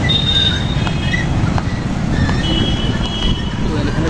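A train running near a highway bridge on the way to Kalyani, a loud steady rumble with thin metallic wheel squeals, heard close by amid traffic.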